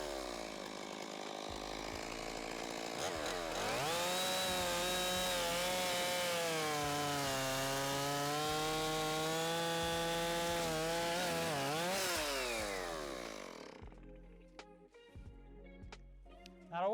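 Stihl MS 461 chainsaw with a freshly square-filed chain cutting into hardwood, a loud, steady high-revving whine with a sustained harmonic drone under load for about ten seconds before winding down to idle and ticking.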